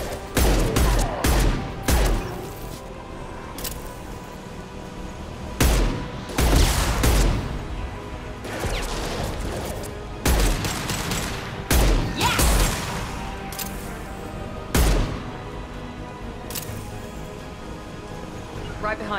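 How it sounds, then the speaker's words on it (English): Repeated heavy blasts and booming impacts of combat in Mass Effect 2, several loud concussive hits spaced across the scene with gunfire and crashes in between, over game noise and speech. "Firing concussive shot."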